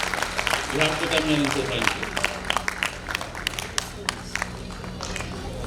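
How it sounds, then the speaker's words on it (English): A school audience claps in a brief burst of applause that thins into scattered claps, while a speaker talks over it in a hall. "I request you all to once again please congratulate her by applauding."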